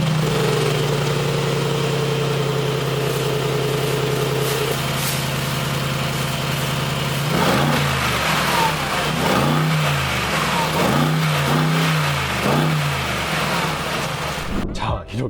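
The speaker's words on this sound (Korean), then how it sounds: "이 차 배기음 안 들어보면 또 섭섭하잖아요" A Mercedes G63 AMG engine idles with a deep exhaust burble, then blips the throttle several times in quick, rising-and-falling revs that crackle loudly up close.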